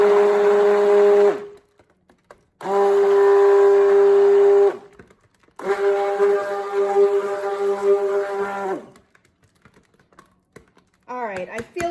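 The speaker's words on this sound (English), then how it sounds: "Let's see what happens if I blend this just a little bit, maybe for a couple pulses on high" A blender pulses on high through thick cold process soap batter in three loud, steady bursts of a few seconds each, separated by brief pauses, with a short sound of shifting pitch at the end.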